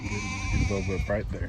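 Painted desert sheep bleat in a field, several calls overlapping under a person talking close by, with steady outdoor background noise.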